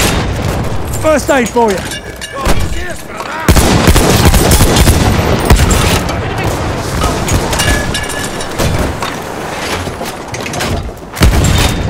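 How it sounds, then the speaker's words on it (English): Battlefield 1 artillery barrage pounds the battlefield with dense, loud booming explosions and gunfire rumbling continuously over about twelve seconds, with voice lines heard briefly at the start. "Coordinates have been sent to our artillery. Artillery!"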